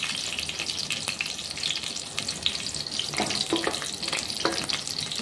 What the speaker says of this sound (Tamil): இஞ்சி பச்சை மிளகா வதங்கினதும் நம்ம வெட்டி வச்சுருக்க வெங்காயத்தை ஃபுல்லாக அதில் போட்டுக்கணும்